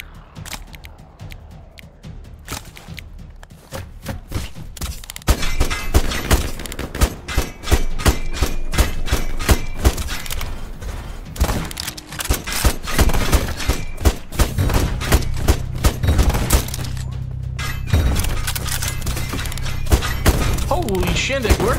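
Rocket fire and explosions from a boss fight in the Black Skylands video game, a dense barrage of rapid blasts, thuds and bursts keeping up without a break, with a voice speaking over parts of it.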